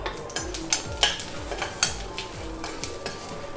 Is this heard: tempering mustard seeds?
yes